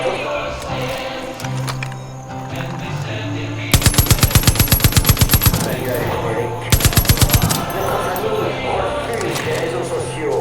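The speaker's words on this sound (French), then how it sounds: "c'est une mitraillette" Machine gun fire in Far Cry 5 comes in two rapid, loud bursts of evenly spaced shots, each lasting a couple of seconds, between stretches of game sound and someone talking.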